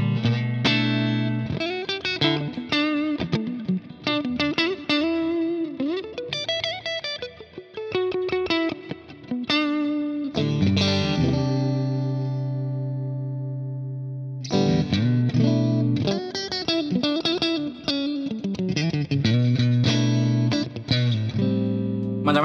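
Clean electric guitar played through a Fender Twin amp, fitted with Highwood HG vintage saddles, ringing out chords and single notes with effects-tinged sustain, stopping briefly midway before picking up again, no voices.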